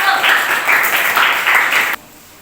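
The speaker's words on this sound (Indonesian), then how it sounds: "Kasih aplaus untuk kelompok 1." A classroom audience claps for a presenting student group, giving a loud, steady burst of applause with a slight rhythmic pulse that cuts off abruptly after about two seconds.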